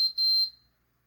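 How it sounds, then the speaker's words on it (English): A VEVOR 660W electric stand dough mixer's timer sounds two close, piercing electronic beeps, the second longer, fading out quickly into silence. "Oh, I had set it on a timer."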